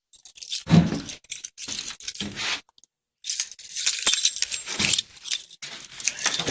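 Keys jangle and clink in short metallic bursts up close while a fire alarm pull station is being reset, with a brief pause midway and no talking.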